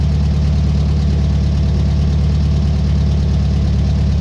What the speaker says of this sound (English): watch that idle will come down